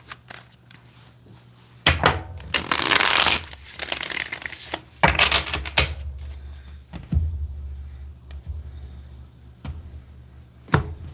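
Tarot cards shuffled by hand nearby: a long riffle followed by a shorter one, then scattered taps and knocks as the deck is squared and set down, with no voices.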